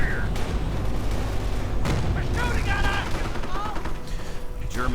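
Gunfire in a World War II real-time strategy game, with repeated gunshots and bursts of fire over a dense battle din, a few higher whistling tones, and someone commentating throughout.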